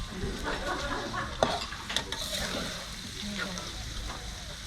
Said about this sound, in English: And now we cook the egg a little bit.